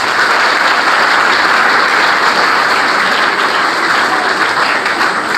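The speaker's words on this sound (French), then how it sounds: "applaudissez d'abord" Steady, dense applause from a school audience at a back-to-school assembly, loud and sustained without pause, with no voices standing out.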